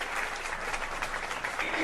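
A crowd at a live hip-hop show claps steadily, a dense wash of applause at moderate loudness that holds evenly and swells slightly at the end.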